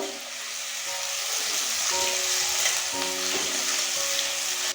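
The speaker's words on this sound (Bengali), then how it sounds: "পেঁয়াজটাকে আমরা লাল লাল করে ভেজে নেব" Chopped onion fries in hot oil with a bay leaf for a village-style chicken dish, a continuous close sizzle and crackle under a few faint tonal whines, with no talking.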